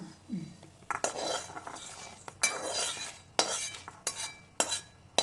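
Cumin and spices are stirred and roasted in a pan for masala chivda, and a metal spoon scrapes and clinks against it in repeated sweeping strokes with brief sharp knocks, close and fairly quiet.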